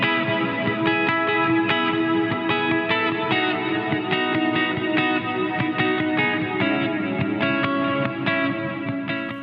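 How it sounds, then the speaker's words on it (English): Electric guitar played through a Catalinbread Soft Focus reverb pedal, a dense, continuous wash of strummed chords with a shimmering, sustained reverb tail and steady rhythmic picking beneath, loud and without pause. "this is a pretty simple reverb pedal"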